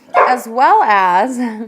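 A dog barks and yips near the microphone in a home, with drawn-out, whining barks overlapping a person who speaks briefly.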